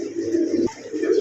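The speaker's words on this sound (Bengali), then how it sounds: "এটা হচ্ছে ড্যানিশ কবুতর, পাকিস্তানি ড্যানিশ কবুতর।" Pakistani Danish pigeons give low, throaty coos close by, rolling in steady repeated phrases with a short break midway.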